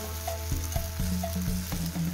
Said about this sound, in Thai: ชะอมใส่ไข่แล้วก็ใส่กระทะหลุมนะคะ